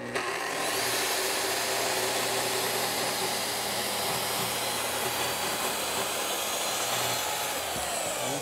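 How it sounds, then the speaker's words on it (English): A track saw cuts a glued-up wooden panel to a 60-inch length with a loud, continuous high whine and rushing roar. The sound holds steady from start to finish. "I'm bringing the track saw over, and I will just cut this to a finished"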